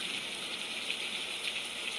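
Steady rain on a very rainy day, a continuous soft hiss of falling water with faint dripping, even and unbroken throughout.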